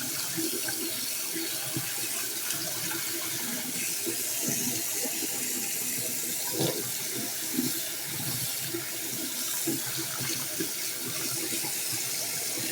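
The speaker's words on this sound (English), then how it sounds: "This is going to be like 7 minutes of just me rinsing these out because it takes that long." Tap water runs steadily into a sink while bottles are rinsed out, a continuous close rushing with occasional splashes and sloshing from the bottles under the flow.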